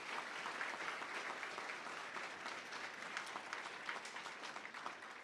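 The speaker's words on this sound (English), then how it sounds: "Can we get one big round of applause for all of our student athletes and our junior scholars, please?" Steady, even applause from an audience at a school district board meeting honoring student athletes and junior scholars, a dense sustained patter of many hands clapping with no break.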